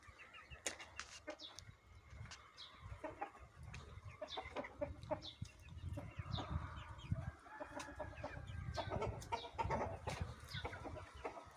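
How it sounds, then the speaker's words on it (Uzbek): Chicks and chickens clucking and cheeping in a farmyard, many short calls overlapping at moderate distance, fairly quiet overall with a steady low background. "Jo'jalarimiz ham"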